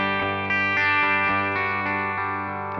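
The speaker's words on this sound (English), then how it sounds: "All right, so here I'm playing my Gibson SG." A Gibson SG electric guitar with humbucker pickups, played through a distorted amp tone with chorus and echo, sounds a few sustained, rich chords and notes, loud and close, with no voices.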